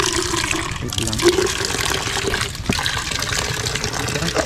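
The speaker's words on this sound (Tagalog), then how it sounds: "bubuan ko yun ng tubig" Water pouring into a container outdoors, a steady gushing, splashing fill that runs close and fairly loud through the whole stretch, with no talk over it.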